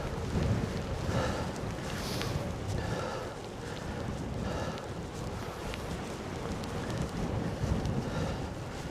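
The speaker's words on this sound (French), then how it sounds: "il y a un vent latéral, un peu de face, mais un peu latéral" Strong crosswind buffeting the microphone during a gravel bike ride in rain, a continuous rough roar with gusty swells throughout and no talking.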